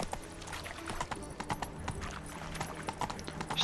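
Roach, a horse in The Witcher 3, gallops with steady, rapid hoofbeats that clip-clop close by and fairly loud, with a brief whinny woven into the rhythm.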